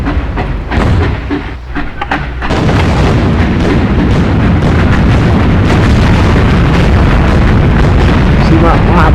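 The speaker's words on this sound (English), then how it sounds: "my howitzer and my regular cannons are doing more damage" A howitzer and ship cannons fire in the PS2 naval video game Swashbucklers, giving a loud, continuous rumbling barrage of booms that swells after a brief quieter opening and fills the whole stretch.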